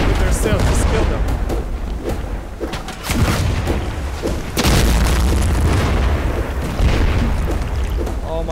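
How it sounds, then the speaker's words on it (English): Heavy cannonballs fire from ship cannons in Sea of Thieves, deep booms landing one after another in a loud, dense naval battle, with people talking over the barrage. "Captain, fire heavy cannonballs."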